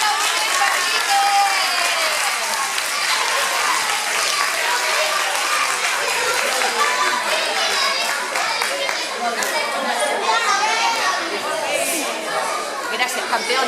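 A crowd at a children's school awards ceremony applauds with sustained clapping mixed with lively chatter and children's voices, loud and continuous throughout.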